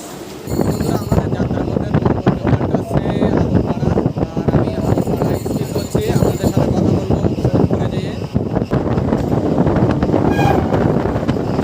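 A Sealdah–Barddhaman local train rumbles loudly and continuously as it pulls into Sodepur station, with rattling carriages, wind buffeting and a short horn toot.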